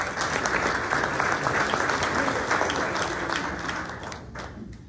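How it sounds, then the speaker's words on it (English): An audience at a military salute event claps in a loud, dense round of applause that holds steady and then tapers off at the end, with a few voices mixed in. "Give a round of applause."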